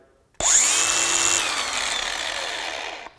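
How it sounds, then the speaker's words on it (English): A DeWalt cordless angle grinder starts with a sharp whine and then spins down under its electronic brake, the high pitch fading over roughly three seconds until it stops, close and alone. "what I want to show you is the brake that's on this grinder."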